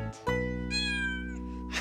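A cat lets out a single long, clear meow up close, preceded by a short higher cry, in a cartoon scene.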